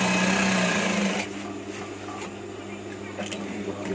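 A sewing machine stitches a batik shirt seam with a fast, steady mechanical whir that runs loud for about a second, then drops to a quieter hum with faint clicks.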